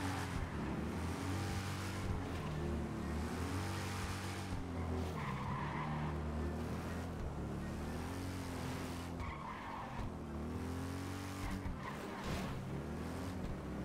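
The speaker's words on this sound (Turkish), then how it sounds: "Ama bayağı hızlı bir motor ya." A fast motorcycle in GTA 5 Online revs and skids, engine pitch climbing and dropping in repeated sweeps with tire squeal, loud and continuous throughout with no talking.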